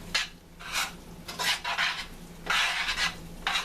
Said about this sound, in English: now I'm going to add 1/3 cup of flour. Mix that up in there.